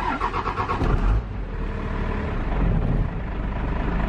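A dump truck's diesel engine cranks with a rapid pulsing churn, catches, and settles into a loud, low, rough idle close by, with no talking.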